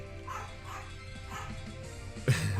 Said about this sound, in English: My dog's about to start barking